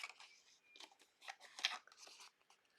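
Scissors snip quickly around a stamped paper image inked in matte black, a run of crisp, close cutting bursts in an uneven rhythm, fairly quiet with no voices.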